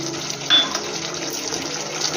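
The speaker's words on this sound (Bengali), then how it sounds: "প্রথমে আমি মশলা ধোয়া জলটা দিচ্ছি।" Spice-rinse water is poured over prawns in a pan, a short, close liquid splash followed by a steady gurgling pour lasting about two seconds.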